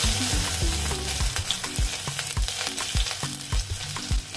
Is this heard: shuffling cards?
no